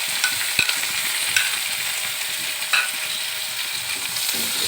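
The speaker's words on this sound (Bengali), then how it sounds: "একটু ভেজে নিচ্ছি এটা।" Chopped onion and tomato fry in a pan with dry red chili and whole cumin, giving a steady, close sizzle throughout. A few light taps of a spatula sound against the pan, and nobody speaks.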